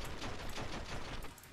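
SMG gunfire in the PC game The Matrix: Path of Neo: a fairly quiet, rapid rattling burst of repeated shots lasting most of the moment, heard alone without speech.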